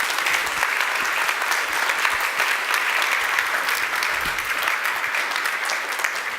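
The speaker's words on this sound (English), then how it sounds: "A big applause again." Audience applause after a lecture, dense sustained clapping from a sizable crowd throughout, even in level with no pause.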